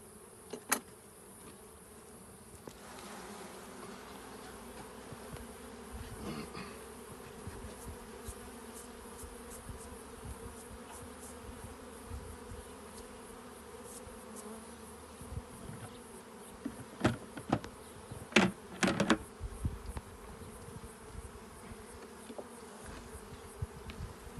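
Steady insect buzzing hums throughout, like honey bees swarming around a hive, with brief louder bursts and clicks toward the end.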